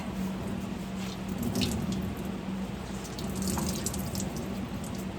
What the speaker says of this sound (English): one last good rinse